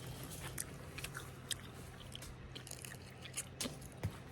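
Fruit being bitten and chewed at close range on a farm, with soft crunchy bites and wet mouth sounds coming in scattered bursts, the loudest bites near the end, over a low steady background hum.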